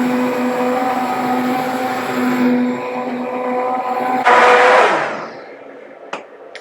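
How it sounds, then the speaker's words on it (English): A hand blender purrs through butternut squash soup with a loud, steady whir that ends in a sharp, higher surge and then cuts off, followed by a couple of brief knocks. "we are going to give it a good blitz with the blender."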